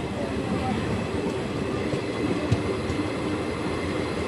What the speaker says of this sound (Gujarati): હવે આપણો નેક્સ્ટ સ્ટોપ રહેવાનો છે ઉપલેટા.